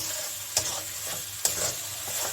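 Chili powder and turmeric powder frying in hot oil for a chicken and potato curry, a steady close sizzle with two sharp stirring scrapes against the pan.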